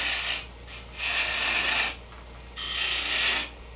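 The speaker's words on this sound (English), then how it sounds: "I'm using a spindle gouge with a swept-back grind" A spindle gouge with a swept-back grind cuts wood on a lathe in three close, bright rasping passes separated by short quieter gaps, loud and alone, while shaping a Roman canteen.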